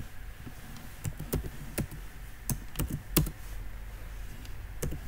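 Keys clacking on a computer keyboard while CSS code is written, heard as scattered, uneven clicks and short bursts of taps at close range over a low steady background hum, with no one talking.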